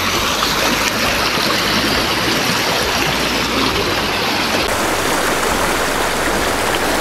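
Clear mountain river water rushing around someone standing midstream on the slopes of Mount Merbabu, a loud, steady, broadband gush filling the whole stretch with no talking.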